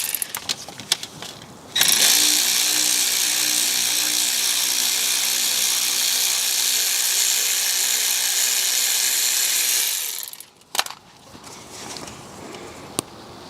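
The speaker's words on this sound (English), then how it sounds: "just going to remove those two bolts now and see if we have any movement" A ratchet turns alternator bracket bolts on a BMW N62 V8, giving one loud, continuous mechanical whir of about eight seconds, followed by a few brief clicks and knocks.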